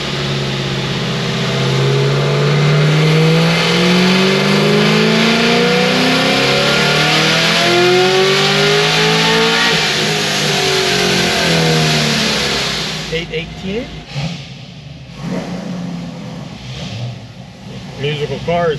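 A Procharged Chevy SS engine revs hard, its loud climbing mid-range roar rising and falling in sweeping pitch arcs for about thirteen seconds, then dropping to an uneven idle with blips while someone speaks nearby.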